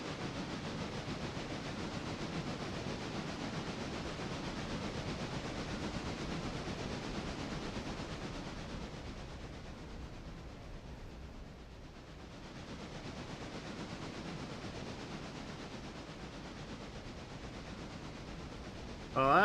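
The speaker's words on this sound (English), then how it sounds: "Because I want to get ahead of that passenger train." A passenger train in a railroad simulator rumbles and hisses in a continuous, steady wash of noise at moderate distance, with no talking.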